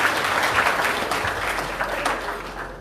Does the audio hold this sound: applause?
yes